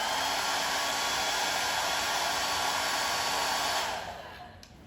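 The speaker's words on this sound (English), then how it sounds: "and then I go in with the dryer." A hair dryer blows steadily and loudly on glued wig lace during a first wig install, a constant rushing whoosh that drops off and fades near the end.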